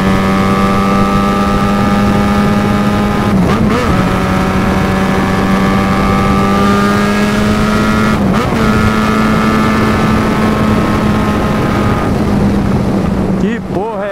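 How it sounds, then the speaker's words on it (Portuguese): A Yamaha XJ6 motorcycle's engine and exhaust give a steady drone with a constant low hum and rising harmonic whine, rumbling continuously throughout with slight pitch shifts, under wind noise. "vocês vão ouvir a moto, olha só."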